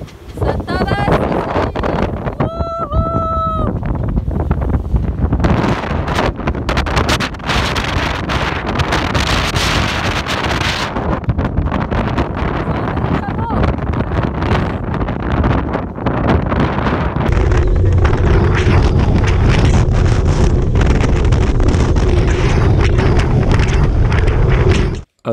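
Strong wind gusts roar across the microphone aboard a sailboat at sea on a rough Balearic crossing, a constant loud buffeting with brief whistling rigging tones early on and a heavier, steadier rush of wind and water toward the end.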